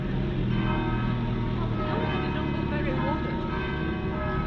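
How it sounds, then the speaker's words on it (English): Church bells ring from the wooden church in Honfleur, France, a steady layered peal of overlapping tones carrying on through continuous background noise, with people talking nearby. "These bells are ringing for us as well."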